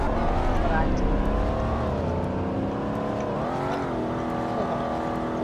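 A Lamborghini Gallardo engine in a Roblox racing game drones and revs continuously, its pitch climbing and dipping through gear changes, with a voice talking over it.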